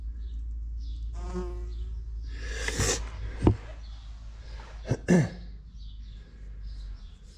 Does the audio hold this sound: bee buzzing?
yes